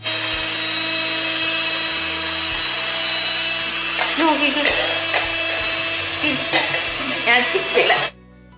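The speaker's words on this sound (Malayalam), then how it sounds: "അതുകൊണ്ട് മുട്ട നല്ലതുപോലെ പതപ്പിച്ചെടുത്തുകൊള്ളുക" An electric beater whips eggs until frothy for a stovetop carrot cake, its motor humming steadily while a person talks over it. The whirring grows rougher with rattly bursts near the end, then cuts off abruptly.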